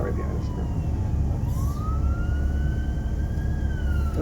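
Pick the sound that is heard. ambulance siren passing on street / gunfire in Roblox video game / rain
ambulance siren passing on street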